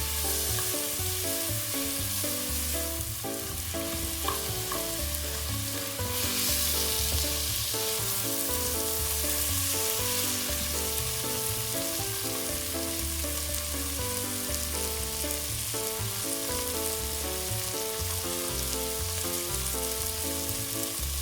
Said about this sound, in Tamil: ஒரு கப் தக்காளி பழம் வெட்டி போடணும். நல்லா கிளறி விடணும்.